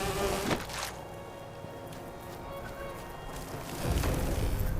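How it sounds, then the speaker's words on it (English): Bees buzz in the Fallout 76 video game, a steady insect drone running through the whole stretch with a louder rustling burst near the end. "And you got bees."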